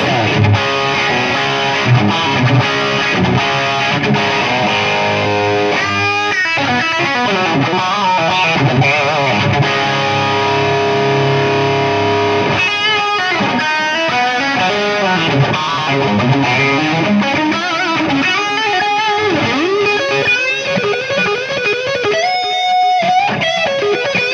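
Electric guitar played through a Tone Ink Red Briton Marshall-style distortion pedal, thick crunchy driven chords and riffs that ring continuously and loud, with short pauses and a few sustained single notes, no talking.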